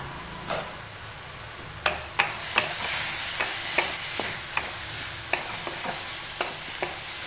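Eggplant and potato curry is stir-fried in a pan, making a continuous sizzle with repeated sharp taps and scrapes of a spatula at an uneven rhythm, up close.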